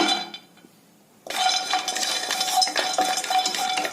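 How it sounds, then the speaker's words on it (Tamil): Almonds, cashews and pistachios are dry roasted on a tawa: after a quiet start, a close, busy rattle of nuts and scraping utensil against metal continues steadily. "ஒரு தவா ஒன்று எடுத்து வச்சுக்கோங்க அதுல பாருங்க பாதாம் முந்திரி பிஸ்தா இதையெல்லாம் ட்ரையா வறுத்துக்கலாங்க"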